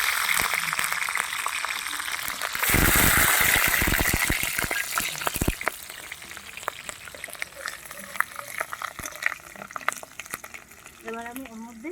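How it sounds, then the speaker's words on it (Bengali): Nigella seeds and slit green chilies crackle in hot oil, a loud burst of sizzling and spattering near the start that settles into a steady, softer frying crackle with scattered pops. "আমি এটার মধ্যে তেলের মধ্যে দেবো কালো জিরা ফোড়ন, আর দেবো এই যে চিড়ে রেখেছি কাঁচা লঙ্কা।"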